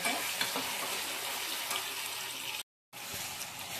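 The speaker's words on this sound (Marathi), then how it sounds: "हा मसाला चांगला परतून घ्यायचा" Masala sautés in oil while being stirred for Kolhapuri tambada rassa, a soft close sizzle with light scraping strokes, cut by a brief silent gap near the end.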